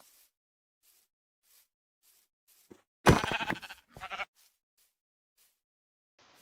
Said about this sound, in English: Oh dear, that's a lot of sheep.